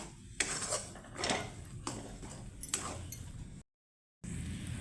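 Stirring thick palm fruit pitha dough in a pan, a spoon scraping and knocking against the metal in slow repeated strokes, close and fairly quiet with a brief silent gap near the end.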